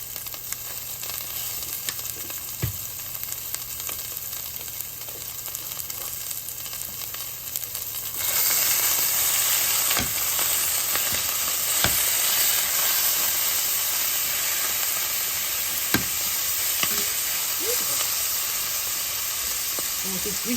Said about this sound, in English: And with this grease popping all over the place, I'm going to put the top.